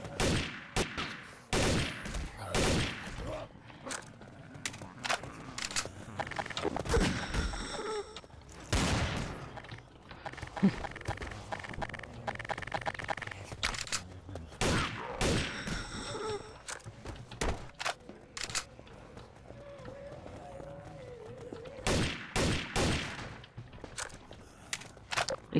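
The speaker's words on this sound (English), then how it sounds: "Shotgun ammo, but I'm gonna use an M16, because I prefer it." Scattered bursts of M16 rifle fire in Garry's Mod, loud and sharp clusters of shots separated by quieter stretches with faint footsteps and thuds, over about half a minute.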